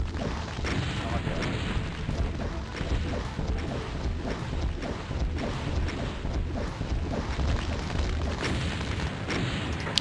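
Dense, continuous rumble of rocket blasts and booms from the Doom map Ever Shrine, loud and layered with heavy low-end crashes through the whole stretch, without clear gaps between hits.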